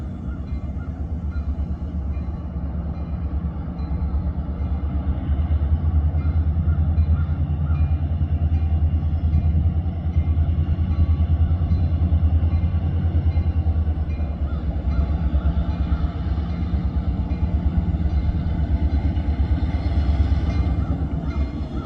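A CN freight train rolls past near Pembine, a steady low rumble and clatter of railcars holding loud and even throughout, with no voices.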